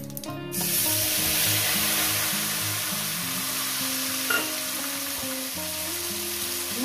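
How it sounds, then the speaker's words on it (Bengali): Steady sizzling of spices frying in hot oil for rohu fish curry, close and even throughout, with a soft tonal melody running underneath. "এবার কয়েক সেকেন্ড ভেজে নেব"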